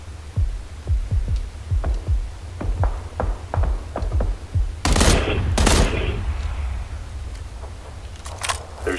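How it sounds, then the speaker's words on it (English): Video game gunfire: a run of sharp, evenly spaced shots at moderate distance, then two louder, dense bursts of rapid fire over a steady low hum, with the noise tailing off afterward. "Someone else was shooting at him."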